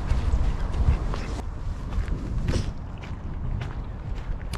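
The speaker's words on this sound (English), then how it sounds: "And there's the swan, look. And some ducks." Ducks quacking outdoors beside a canal with a swan nearby, amid steady background noise and rustling, with a few brief calls standing out over a continuous din.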